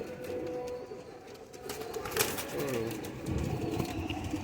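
Young flying pigeons coo softly nearby in short, low throaty calls, mixed with some light wing rustling and background noise, with a voice faintly present.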